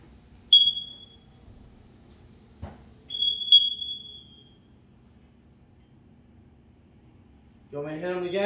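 Two short, high-pitched electronic chirps from a smoke detector a few seconds apart in a quiet room, followed by a person starting to talk.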